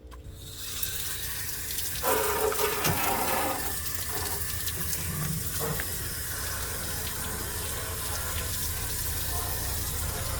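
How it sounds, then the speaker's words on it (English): High-pressure water sprays onto a degreased fuel tank from a 1966 Mustang, producing a continuous loud hiss and splatter whose tone shifts slightly as the spray moves across the metal. "I'll just let that sit for a second and we'll hit it with some water."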